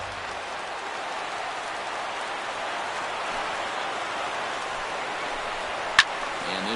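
Steady roar of a large stadium crowd, over 39,000 on their feet, cheering at a baseball game in MLB The Show 16, a continuous broad wash of noise with one sharp crack near the end.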